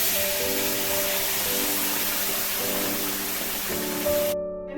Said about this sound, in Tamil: கடாய் ஹீட் ஆனதும் நம்ம அரைச்சி வச்சதை இதில் ஊற்றிடலாம்.